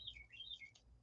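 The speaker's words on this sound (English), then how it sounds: "y'all can probably hear that bird because it sounds like he is right outside" A small bird chirps just outside a window, a quick series of high, thin tweets and trills, faint but clear over a quiet room.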